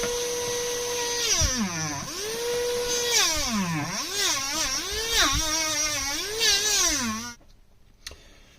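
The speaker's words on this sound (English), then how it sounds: "That's a Dremel engraver." A Dremel engraver cuts into a sterling silver pendant, producing a loud, close, whining buzz whose pitch repeatedly dips and rises as pressure changes, running for about seven seconds before cutting off abruptly into quiet.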